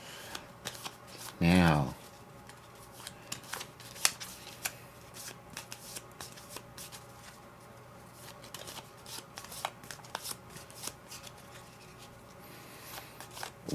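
Initiative cards for a Dragonbane tabletop game are shuffled in one short, papery riffle near the start, followed by faint table taps and handling noises under quiet room tone.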